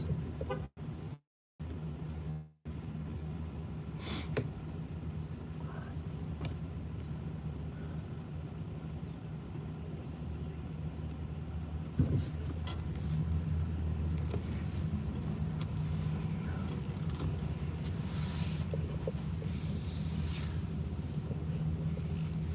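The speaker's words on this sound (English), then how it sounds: "wait till that car gets going." A car pulls away from a city crossroad, a low engine rumble heard from inside a parked vehicle that swells slightly partway through and continues steadily.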